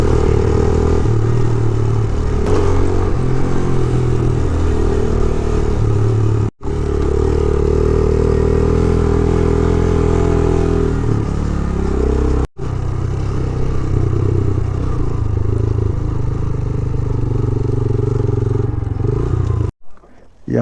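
A motorcycle engine runs steadily and fairly loud while riding through the Upper Neelum valley, with clattering and rattling over rough ground and a few brief dropouts.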